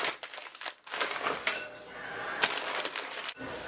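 Hash browns being mixed into potato pancake batter in a bowl, with close, uneven scraping, wet clinks and crinkly rustling coming in short bursts and a brief pause, no talking.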